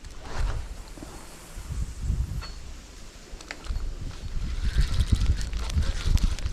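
Steady wind gusts buffet the microphone outdoors while fishing near reeds, rising and falling in strength with low rumbling bursts and faint rustling.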